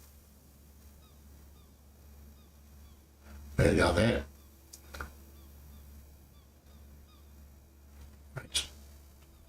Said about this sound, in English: Come on, seagulls, where are you?